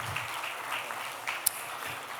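Audience applause at the Kerala Literature Festival 2025 inauguration ceremony, a steady, soft wash of clapping held at a distance for a couple of seconds, with no voices over it.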